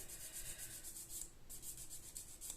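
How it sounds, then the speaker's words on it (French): A fine-grit nail file strokes back and forth across a false fingernail, giving a soft, steady rasping with an even rhythm that pauses briefly midway, close up and alone. "je lime avec un grain beaucoup plus fin sur le dessus pour enlever la démarcation"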